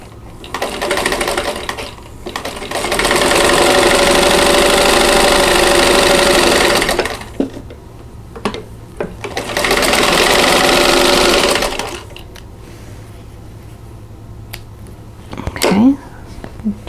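A sewing machine stitches a quilt block for an owl design in two loud, steady runs of a few seconds each, with quieter handling and brief speech between and after.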